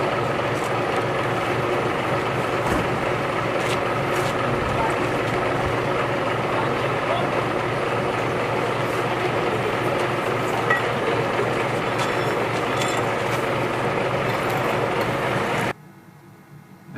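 A vacuum truck engine runs for faecal sludge suction in Thailand, a steady close idling drone with faint mechanical clicks that continues evenly for about sixteen seconds before cutting off abruptly.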